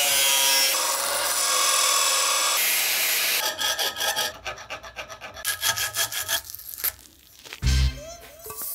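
Metal parts for a motorcycle speedo bracket on a BMW R80 are cut and shaped, starting with a loud steady grinding whine that gives way to rhythmic, close rasping strokes of filing or sawing.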